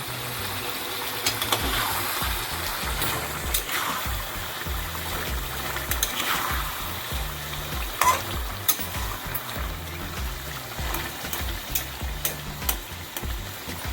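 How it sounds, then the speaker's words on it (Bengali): Chopped garlic and green chillies fry in a karahi for chicken karahi, a loud, close sizzle with busy stirring and scraping of the spatula against the pan. "এবার এই সময় আমরা এই কেটে রাখা কুচো রসুনগুলোকে এর মধ্যে দিয়ে দেবো, আর এই কাঁচা লঙ্কাগুলোকে এর মধ্যে দিয়ে দেবো।"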